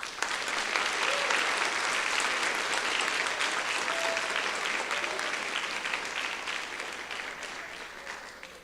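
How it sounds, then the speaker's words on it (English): Sustained audience applause at a National Honor Society induction ceremony for new members, dense clapping that holds steady then gradually tapers toward the end. "please join me in another round of applause for all their achievements"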